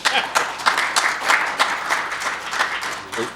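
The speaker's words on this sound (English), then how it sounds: "So give them a round of applause, please." Applause from an audience, a steady wash of many hands clapping with a few louder claps standing out, fairly close.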